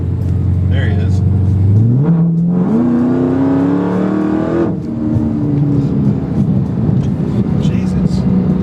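A 1000-horsepower Dodge Hellcat running on pump gas accelerates on a highway, its engine note rising steadily through the gears in a loud, sustained roar, with people talking over it.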